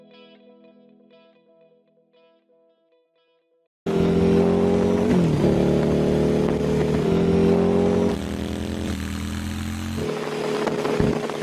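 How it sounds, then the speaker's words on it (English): After a quiet stretch, a custom Harley-Davidson Street Bob FXBB with a Jekyll & Hyde flap exhaust, Jekyll bomb silencers and slash-cut end caps bursts in with a deep, throaty exhaust, revving up and down close to the microphone. "The sound is provided by the Jekyll & Hyde flap exhaust system with Jekyll bomb silencers and slash-cut end caps."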